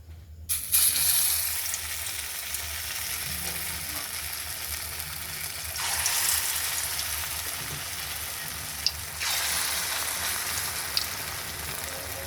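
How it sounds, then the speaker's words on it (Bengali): Lentil fritters (dal bora) fry in hot oil with a constant, moderate sizzle that swells into louder bursts twice, likely as fresh batter drops in, punctuated by a few sharp clicks. "ডালের বড়া ভাজবো বন্ধুরা, ডাল বাটা হয়ে গেছে, তেল বসিয়ে দিয়েছি"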